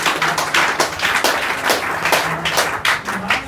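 A group of students claps hands together for a classmate in a classroom, with steady, dense clapping close by throughout.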